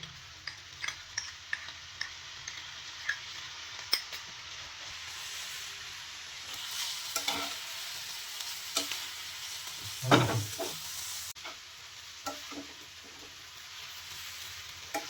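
Chow mein noodles stirred and tossed in a hot pan with spices, a steady frying sizzle under repeated scraping and clattering strokes of the utensil, with one louder scrape near the end.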